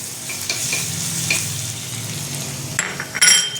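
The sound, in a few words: chopped garlic frying in hot oil and butter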